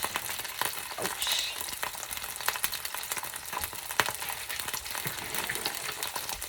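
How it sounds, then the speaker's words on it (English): Gyoza sizzle in a frying pan, with a steady bright crackle and scattered pops that carry on continuously at close range, with no talking. "So you hear that yummy sizzle there?"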